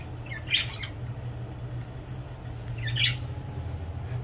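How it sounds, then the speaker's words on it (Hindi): Caged pet birds, parrots among them, give two brief high chirping calls about two seconds apart over a steady low hum; the calls are moderately close and there is no talking. "ये देखें माशाल्लाह कितने प्यारे परिंदे हैं जी"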